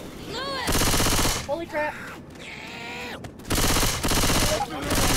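Rapid automatic gunfire from a co-op zombie shooter, Left 4 Dead, comes in loud dense bursts separated by short pauses, while excited voices shout between and over the shots.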